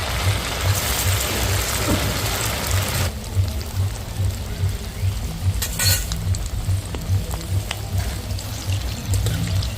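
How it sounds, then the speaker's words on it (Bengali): Moong dal puli pitha dropped one by one into hot white oil in a wok: bubbling sizzle that is busier at first and then calmer, with light clinks over a low steady hum. "পিঠেগুলো এক এক করে তেলে দিয়ে দিচ্ছি"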